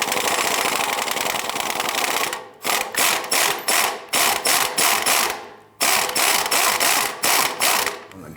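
Impact or ratchet wrench loosening a rusty oil pan bolt on a 1999-2004 Jeep Grand Cherokee 4.7L V8, a loud continuous mechanical buzz followed by rapid repeated short bursts with brief pauses, close up.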